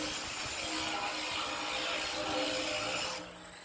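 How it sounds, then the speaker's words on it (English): A heavy 9-inch angle grinder cuts through a 500 mm steel pipe, giving a loud, steady, gritty whine that holds near and constant before dropping away at the end. "I'm using a power tool and this is a 9-inch grinder."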